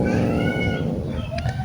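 A cat being treated for a fungal skin infection gives a long, loud, drawn-out growl close by, a sustained low rumble with rising yowl-like tones woven through it.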